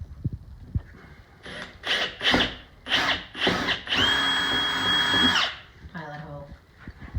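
A power drill bores a pilot hole into the ceiling of a 1984 Isuzu JCR500 school bus conversion in several short bursts and then one longer steady run, close and loud, with people talking around it.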